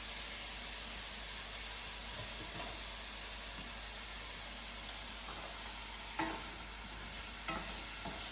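Carrots sauteing in a hot pan after garlic for a Mediterranean chicken and vegetable dish: a steady low sizzle and hiss runs throughout, with a few soft stirring scrapes and clicks, including a slightly sharper one near the end.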